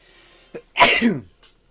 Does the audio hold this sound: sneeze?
yes